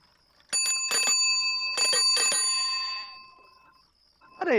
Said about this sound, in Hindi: तुम जा घंटी बजा रही हो